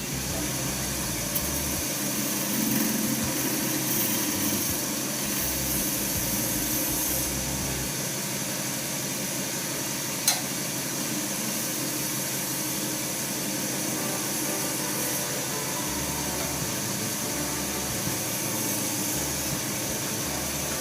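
A wood lathe turns a shaving brush handle while its top is shaped with a tool, giving a steady, fairly loud motor whir and a rough scraping hiss that runs continuously, with one sharp tick partway through.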